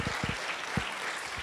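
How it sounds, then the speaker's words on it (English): An audience at a business leadership talk claps in dense, steady applause, with a few louder hand claps standing out near the mic. "Give Sammy and Vaz a big round of applause, please."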